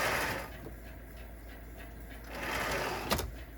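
A Coleman 431 camp stove hisses and chuffs in soft, rhythmic pulses like a small steam train, a close, steady breathy puffing with one brief louder burst near the end.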